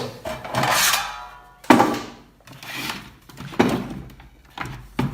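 A UPS unit that refuses to run on battery has its casing cover pried and slid off, giving several close scraping, clunking and rubbing bursts separated by brief pauses.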